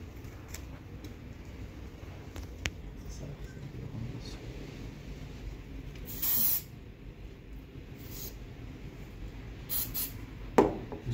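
A spray bottle gives several short hissing spurts, a pair of bursts in the middle and more near the end, over a quiet outdoor background in a jungle nomad camp.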